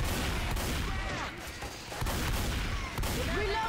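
Gunfire in Left 4 Dead 2 rattles in a steady, dense barrage that briefly thins before resuming, loud and continuous, with faint speech mixed in.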